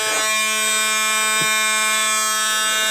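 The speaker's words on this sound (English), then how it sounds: "Let's go after this buzzer to figure out where the heck it is located in this car" A 1981 Alfa Romeo Spider Veloce warning buzzer drones on continuously, a loud harsh tone rich in overtones that holds steady and close the whole time.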